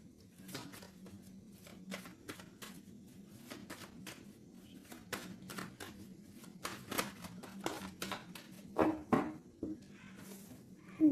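A deck of cards cut and shuffled by hand at close range, quiet crisp riffling and snapping flicks in uneven bursts over low background hum, with no talking.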